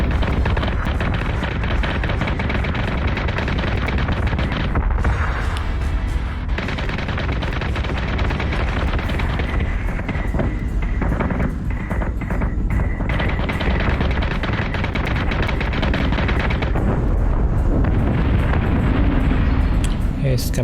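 Guns firing during a video game battle: a loud, dense wall of gunfire and booming blasts running continuously, with overlapping rumble and a voice talking over it at times.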